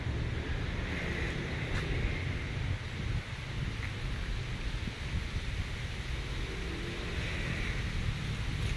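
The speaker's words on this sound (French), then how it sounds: "Un petit vent qui nous vient du Vietnam." A light breeze blows steadily outdoors near temples in Thakhek, Laos, as a constant broadband rush with no talk over it.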